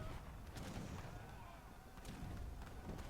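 Heavy cannons firing in a strategy video game battle, a dense rumbling barrage of booms and thuds with a few sharper reports standing out, continuous and fairly quiet.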